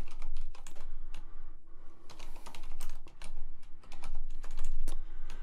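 Quick bursts of key clicks as names are typed into an Excel spreadsheet on a computer keyboard, close and fairly quiet, with short pauses between words and no voices.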